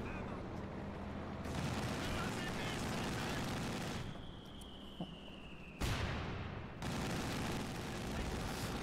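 An artillery barrage in a Company of Heroes match, rapid crackling gunfire and booming impacts that swell and drop in waves, with a commentator talking over the battle noise.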